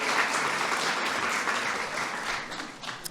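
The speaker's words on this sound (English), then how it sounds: "So please give them a big round of applause." A crowd at a 2016 Eid al-Fitr reception claps steadily and fairly softly for about three seconds, a dense even patter of many hands with no voices over it.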